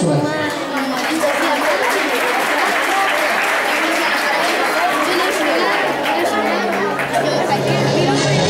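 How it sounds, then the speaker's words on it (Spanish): Loud, dense audience applause mixed with cheering and chatter after schoolchildren perform a cueca dance at a Fiestas Patrias celebration, continuous and close throughout. "Un gran aplauso a ellos."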